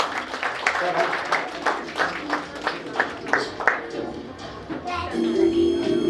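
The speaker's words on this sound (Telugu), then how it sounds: "ఒకసారి అందరు క్లాస్ కొట్టండి." An audience at a real estate developer's lucky draw event claps in a run of distinct, fairly close handclaps over several seconds, with the room ambience and a murmur of voices underneath.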